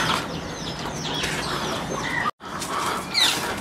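Chickens clucking and calling nearby as they climb a ladder, with bird chatter, a steady outdoor village background and a brief dropout partway through.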